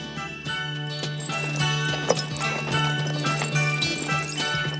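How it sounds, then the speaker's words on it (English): Horse hooves clip-clop through a movie scene, a run of quick clopping hits over a steady tonal hum with faint jingling. "A horse, huh?"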